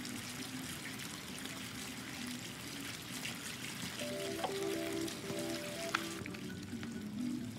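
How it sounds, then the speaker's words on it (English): Hot water running in a Life is Strange 2 video game scene, a soft steady splashing stream with faint drips, quiet and continuous under light game music tones. "this hot water's going to feel so good."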